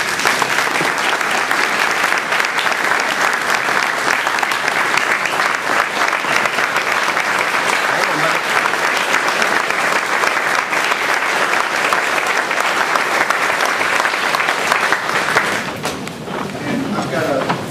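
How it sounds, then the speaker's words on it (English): Sustained, loud applause fills a Rotary Club meeting hall during the passing of the gavel, steady dense clapping from the audience lasting over fifteen seconds before tapering off. "Everybody give him a round of applause."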